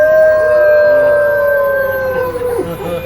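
A group of people imitating wolves with voiced howls at a wildlife park, one loud sustained howl gliding slowly downward, with more howls overlapping and wavering near the end.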